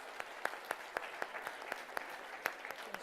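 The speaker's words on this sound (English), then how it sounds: "And give them a round of applause as well." Sparse applause for the finalists at the prize ceremony of a science competition, quiet and distant, with a few distinct hand claps standing out in a regular rhythm above a soft background.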